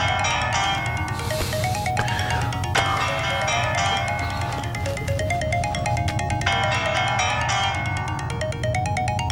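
A phone ringtone plays as a bright, repeating electronic melody, steady and fairly loud for several seconds over a low background hum, with no one talking.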